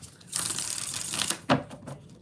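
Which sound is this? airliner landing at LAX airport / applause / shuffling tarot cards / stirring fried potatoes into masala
shuffling tarot cards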